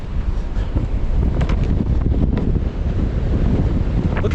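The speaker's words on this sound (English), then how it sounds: "Look how windy it is." Strong wind buffets a microphone outdoors, producing continuous loud low rumbling and roaring gusts that fill the whole clip, with faint higher rustling noises near the end and no talking.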